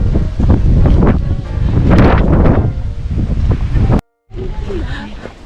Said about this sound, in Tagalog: At least mahangin dito.